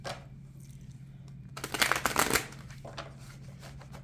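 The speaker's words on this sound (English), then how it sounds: "give these cards just a couple shuffles" A deck of tarot cards is briefly shuffled by hand: a dense, crisp riffling burst of about a second that stands out clearly against a quiet room hum.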